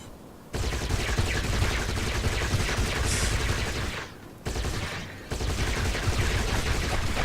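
Dense sustained gunfire from marines in a video game, continuous bursts of rapid shots with a brief lull near the middle, loud and close with no talking.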